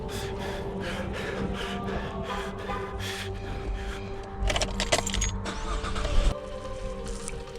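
A car engine cranks repeatedly without catching, amid jangling keys, with a louder burst of strained cranking in the middle and a sharp thud at the end.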